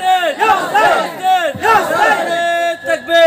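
Crowd at a naat gathering shouting the takbir slogan in unison, loud bursts of massed voices repeated in a chant rhythm, close and dominant.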